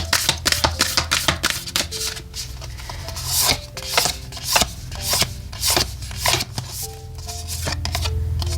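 Tarot oracle cards shuffled by hand, a steady run of crisp riffling and sliding card sounds with soft rubbing between, close and alone with no talk.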